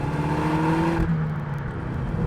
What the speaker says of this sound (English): The exhaust sounds a bit fruitier.